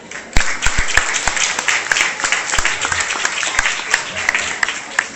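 At a Maheshwari youth program, an audience applauds the speaker's teacher with a full burst of clapping that starts with a few loud, sharp claps and then settles into steady applause.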